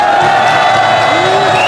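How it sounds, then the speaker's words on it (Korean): A crowd at a political rally in Masan, South Korea, roars with loud cheering and shouting mixed with clapping, a dense, sustained wall of voices close up. "우리 이정진 회장님께 박수를 보내주시기 바랍니다"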